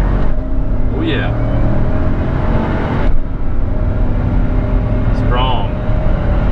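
A supercharged 650 HP GMC Denali truck engine drones steadily throughout, with blower whine rising twice as the truck brake-boosts and accelerates, loud and close inside the cab, with brief talk over it.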